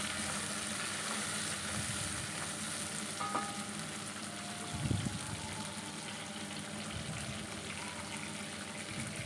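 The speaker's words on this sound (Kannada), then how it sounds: "ಈರುಳ್ಳಿ ಮತ್ತು ಟೊಮೆಟೊ ಹಾಕಿದ ಮೇಲೆ ಚೆನ್ನಾಗಿ ಮಿಕ್ಸ್ ಮಾಡಿಕೊಂಡು ಒಂದು ಸ್ವಲ್ಪ ಹೊತ್ತು ಬೇಯೋದಕ್ಕೆ ಅಂತೇಳಿ ಬಿಡ್ತಾ ಇದ್ದೀನಿ" Onion and tomato cook in a pan for bisi bele bath, giving a low, constant sizzle throughout. A couple of soft knocks and stirring sounds break it midway, and there are no voices.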